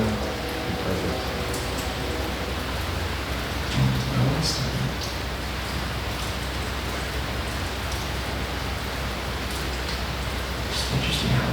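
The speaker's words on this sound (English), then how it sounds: "lay here and listen to the rain" Rain heard from inside Pennhurst's Devon Hall, an abandoned building, as a steady even hiss that stays constant across the whole stretch, with faint knocks and brief murmurs near the start.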